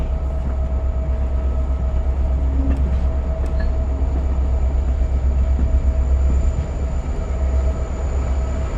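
Vintage open-air car of the Lehigh Gorge Scenic Railway rolling over the Colport Bridge, a steady loud rumble of wheels and rail noise with faint clanks throughout, no talk.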